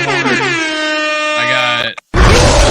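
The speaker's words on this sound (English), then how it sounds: "What else I got? Air horns." Air horn sound effect played in a postgame football talk segment on the Minnesota Vikings and Carolina Panthers: a loud, sustained blaring blast of about two seconds, a brief cut to silence, then a burst of harsh noisy sound.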